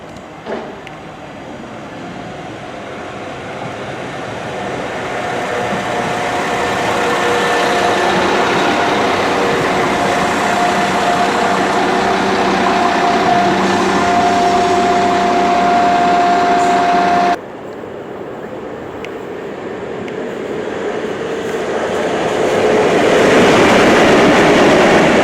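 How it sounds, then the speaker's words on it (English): A London Overground passenger train pulls into a station platform, its rumble swelling and holding steady with a rising tonal whine and rail noise, loud and close, then a sudden cut to a rushing, roaring pass as it slows. "train now approaching platform 1 is the 14:15 London Overground service to Gospel Oak"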